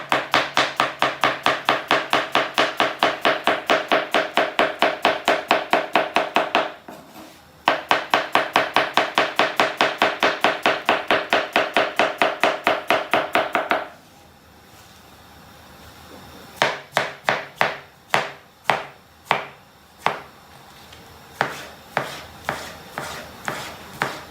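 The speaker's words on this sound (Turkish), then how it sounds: "hemen soğanlarını doğrayacağız" Rapid knife chopping of onions on a cutting board for an okra dish, fast even strokes in two long bursts, then slower, spaced single chops after a pause, close and crisp.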